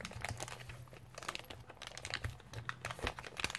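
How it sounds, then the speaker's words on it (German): Plastic bag crinkling and tearing during a resin craft session, a close, quiet run of irregular crackles and rustles with no speech. "Und die Tüte, die platzt schon."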